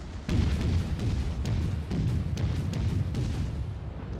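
Naval gun salvo from the cruiser USS Charleston (C-22) in the World of Warships video game, heard as a rolling series of deep booms and rumbling blasts over sustained low battle noise, loud and without talk.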